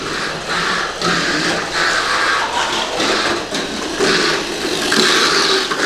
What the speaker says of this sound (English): we're just gonna start driving it and see what it does. This is full speed.